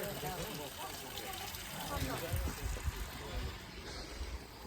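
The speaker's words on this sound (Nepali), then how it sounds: "पहिले त यहाँनिर पानी निक्लिँदैन थियो अहिले त निक्लिँदो रहेछ ड्राइगनबाट" Water trickles steadily out of a drain outdoors, a faint liquid babble heard under people chatting nearby.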